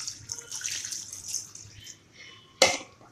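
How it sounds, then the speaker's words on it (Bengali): Water is poured into wood apple juice, making a soft, close splashing trickle that fades out, followed by one brief sharp clatter. "দিয়ে দিচ্ছি জল"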